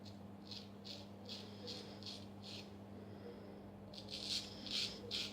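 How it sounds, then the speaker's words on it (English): Crisp, rhythmic scraping strokes of a hollow ground straight razor shaving, about one every third of a second, close up, with a few louder strokes near the end. "I like that sound you get from a decent hollow ground razor."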